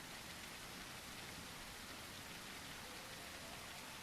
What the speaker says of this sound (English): Is it raining? I can hear it, but I can't see it. Yeah, it is raining.